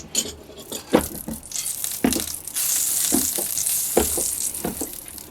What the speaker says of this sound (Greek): Μόλις κάψει το τηγάνι θα προσθέσω μέσα μια κουταλιά της σούπας βούτυρο και άλλη μια κουταλιά της σούπας ελαιόλαδο.